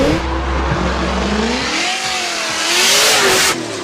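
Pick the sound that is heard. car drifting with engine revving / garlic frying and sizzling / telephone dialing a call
car drifting with engine revving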